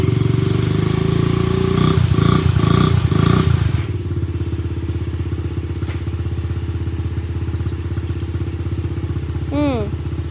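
A 50cc motorbike does burnouts, its engine revving loud and close in a steady buzzing drone, with rough clattering bursts in the first few seconds before it settles into a sustained rev.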